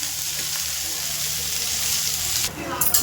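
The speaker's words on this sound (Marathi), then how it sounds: "थोडं तेल टाकून भाजून घेते कांदे मस्त" Onions roast in a little oil with a steady, close sizzle that keeps going, then cuts off near the end as a few louder knocks and clatter come in.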